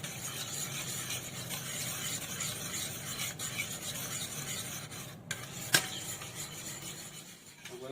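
Gelatin sheets being stirred and melted into a preparation in a pan, a steady scraping swirl that runs without pause, with a brief sharp clink near the end.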